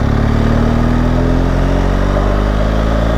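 A motorcycle engine runs loud and close with a constant mid-pitched drone while the rider accelerates against the front brake on tarmac. The pitch rises slightly, and no voices are heard.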